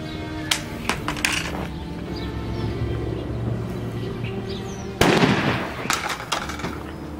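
A Thunder B flash grenade filled with powder goes off outdoors as a sharp, loud bang. Softer pops and clicks come before it, and faint bird calls sit in the background.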